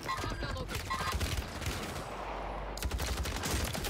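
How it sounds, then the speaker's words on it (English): A video game weapon fires in a fast, continuous stream of shots at a very high rate, heard close and loud in a Rebirth Island match, ending abruptly before another short burst. "This might be the fastest fire rate weapon I've ever used."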